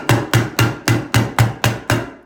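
Staple gun fastening carpet padding down near a wall, seven sharp evenly spaced snaps in quick succession, close and loud with no talk.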